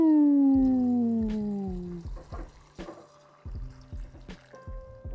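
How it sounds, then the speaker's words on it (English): Dissolved salt water brine pours into a jar for pickling vegetables, starting as a steady rising-pitch fill stream, then breaking into a series of separate glugs and splashes, close and clear with no talking. "we're gonna just pour our dissolved salt water into the jar"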